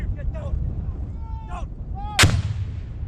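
Paratrooper recruits fire live rifle rounds on a final field exercise, with a single sharp, loud gunshot cracking out near the end amid rumbling wind and distant shouted commands.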